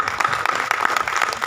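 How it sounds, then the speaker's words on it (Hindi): An audience claps steadily and loudly to welcome performers at the UPSTRING 24 event in Damodar Hall, Parel, forming a brief dense burst of applause with no voices. "हर कलाकार का स्वागत आप अपनी ज़ोरदार तालियों के साथ करेंगे"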